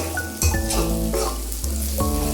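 Spices sautéing in a pan for a Bengali pointed gourd and potato curry, a steady close sizzle broken by several scraping stirs of the spoon, with no voices over it.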